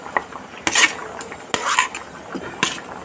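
Cooked rice tipped into a pot of sambar and mixed with a spoon, giving a few separate scraping, clattering bursts of utensil against pot, close by with no talk.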